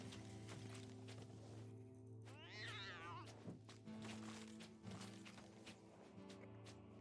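Cat meows in the action roguelike video game Death Must Die, a single rising-and-falling meow near the middle amid steady game hum and scattered thumps and hits, faint overall with no voices.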